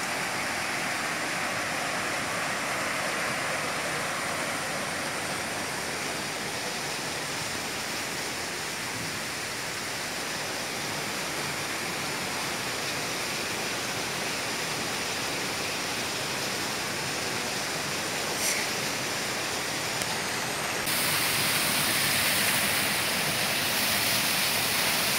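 Water pours and rushes steadily through a filter at a drinking water treatment plant in Puerto Salgar, Colombia, a continuous broadband flowing roar that stays loud and even throughout, with no talk.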